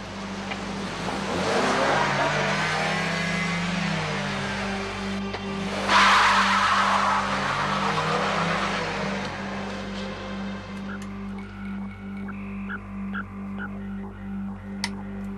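A car pulls away with its tires skidding and squealing, a loud engine-and-tire roar peaking around the midpoint and then easing off, with faint clicks at the tail.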